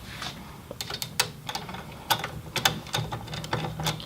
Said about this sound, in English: all you do is keep your old axle in and screw it back in with the peg attached